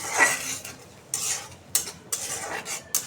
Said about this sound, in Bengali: মশলাটা কষাই নিতেছি